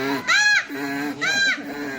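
A voice imitates a donkey's bray up close, with two loud, wavering, drawn-out calls separated by a brief pause.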